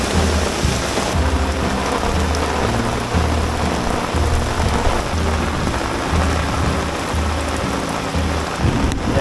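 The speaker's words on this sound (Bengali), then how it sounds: "প্রচুর বৃষ্টি হইতেছে এখানে" Dense, steady downpour of heavy rain drumming on surfaces at Ratargul swamp forest in Sylhet during a flood, loud and unbroken throughout, with a low rumble underneath.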